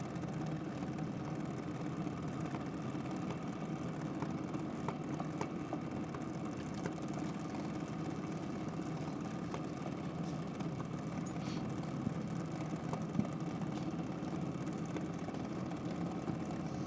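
A drag racing car idles at Sydney Dragway during a championship morning session, a faint, steady low engine rumble that runs without a break and has no voices over it.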